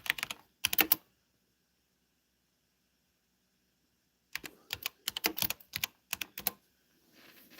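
Bursts of quick keyboard typing, a short flurry of clicks, a long silent pause, then a longer rapid run of keystrokes, close and clear.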